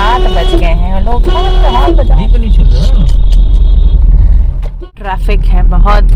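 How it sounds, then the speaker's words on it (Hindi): Heavy road traffic in a city jam, with a steady low engine rumble and passing-vehicle noise filling the whole stretch while people talk over it throughout. "बहुत शदीद ट्रैफिक हो रहा है यहाँ पर"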